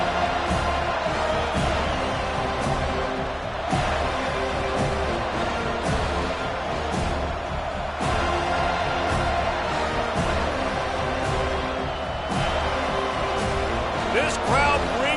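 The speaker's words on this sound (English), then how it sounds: "This crowd bringing the energy and noise early." A large crowd roars steadily throughout, a dense wall of cheering and noise with occasional sharper shouts rising above it.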